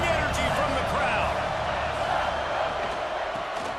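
A football stadium crowd roars steadily during a third-and-goal defensive stand, a continuous, distant wall of cheering noise with a commentator talking over it.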